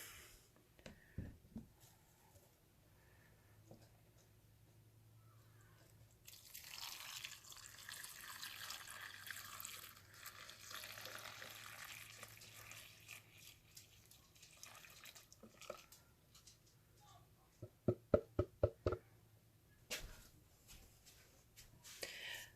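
Dissolved lye solution poured into soap-making oils for heat-transfer soap: a soft, continuous liquid pour and splashing for several seconds, followed by a few sharp clinks and drips from the container, close and quiet, with no speech.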